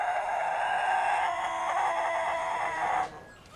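A rooster bred for its long, powerful crow gives one sustained, loud call that holds for about three seconds before cutting off abruptly.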